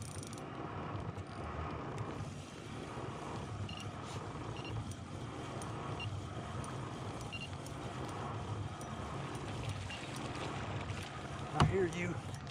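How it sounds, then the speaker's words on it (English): A motorboat on a mountain lake runs as a steady low engine drone under wind and water noise, holding an even level throughout, with a brief clatter near the end. "I got a boat coming right at me."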